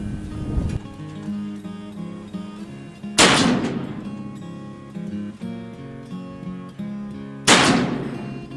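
An Uberti 1862 Pocket Navy replica revolver fires shots outdoors in strong wind, sharp loud reports spaced a few seconds apart over steady background noise and a ringing musical drone.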